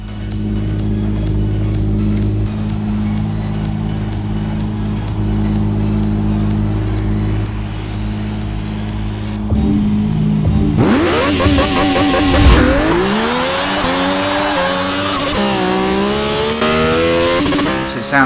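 Race car in Forza Motorsport 6 starting with a steady engine drone, then accelerating hard, its engine revving high through rising gear pulls up to 12,000 RPM, loud and continuous with no talking.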